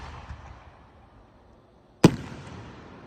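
A single loud firework burst at a fairground show cracks sharply against a low hum of crowd and outdoor ambience, its echo trailing off afterward.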